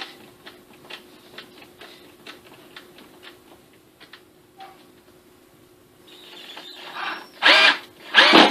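A power drill drives screws into a mystery box, starting with a series of quiet ticking clicks and short bursts, then two loud close whirring runs near the end, with no voices.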